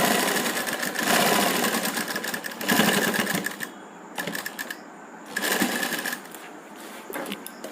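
Sewing machine stitching a kurti neck strip, a double line of stitches laid over the front neck strip; rapid mechanical whirring runs in three close, loud bursts separated by short quieter pauses, with no talking.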